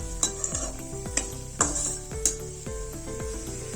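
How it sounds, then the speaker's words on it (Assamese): Cashews frying in a pan for vegetable pulao make a low sizzle, with sharp metallic clinks and scrapes of a spoon stirring at a steady pace, close up and with no talking. "কাজুখিনিও ফ্ৰাই কৰি লম।"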